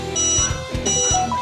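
A home security system alarm sounds in a fast electronic pattern of pulsing tones and beeps, loud and close, for a little over a second.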